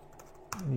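Brief keyboard typing on a computer, entering text into laser engraving software for a portable LaserPecker LP2 engraver, a few soft clicks close by with a voice starting at the end.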